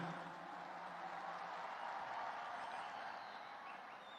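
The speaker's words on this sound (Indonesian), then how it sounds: "Kita beri tepuk tangan untuk beliau." Faint, distant applause from a crowd at a NasDem party political rally, a steady wash of clapping that holds evenly for several seconds with no voices over it.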